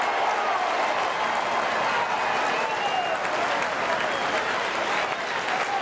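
A football crowd at a 1986 St Kilda versus Hawthorn match roars and applauds St Kilda's first goal, kicked by Lockett, in a loud, continuous wall of cheering and clapping.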